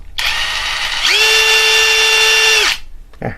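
An OSUKA OCID821U-D1 brushless impact driver spins loudly and close up with a steady whine. Partway through, the motor pitch rises and holds, then the tool cuts off with a short click.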